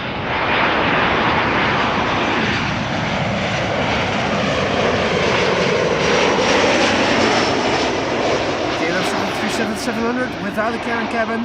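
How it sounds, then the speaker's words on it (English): Finnair Airbus A320 jet departing Amsterdam Schiphol, a loud, steady engine roar that swells and shifts pitch as it passes, with voices talking underneath throughout. "Hey, Finnair leaving. A320."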